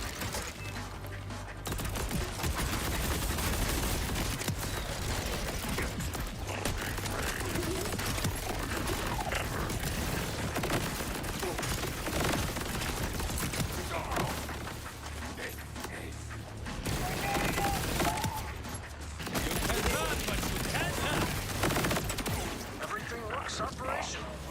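Rapid, chaotic gunfire from the video game Borderlands 4, near and loud, with dense overlapping shots, mechanical clatter and crashes running almost continuously, broken by a couple of short lulls.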